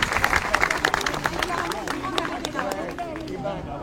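Crowd applause at a political rally in Paris, with clapping sustained through the whole stretch, dense and fairly loud, and a murmur of voices and chatter blended in.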